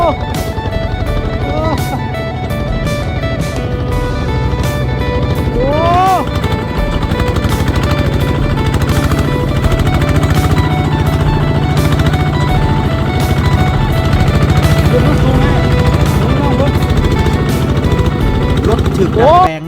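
A powerful Thai 'mountain tiger' walking tractor labours up a steep hillside in a mountain valley village, its loud single-cylinder engine chugging steadily and close throughout, with someone talking over it.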